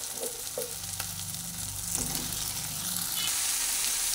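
Spiny gourd pieces and green chillies sizzle in a frying pan as they are stirred, a close crackling fry with a few scraping strokes and no speech.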